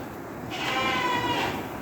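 Goats bleat repeatedly at feeding time on a farm, a sustained, wavering call rising loud and close in the middle, with no one talking.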